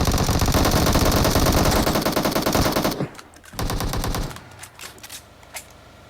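Rapid automatic gunfire from a PUBG Mobile match rattles loudly and continuously for about three seconds, then breaks off into shorter bursts and scattered single shots that fade toward the end.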